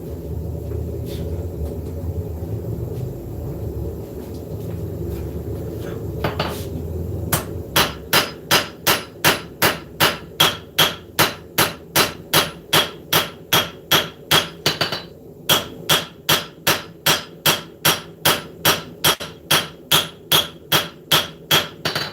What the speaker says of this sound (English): that's why we use the different hammers, so that we actually get the result that we're going for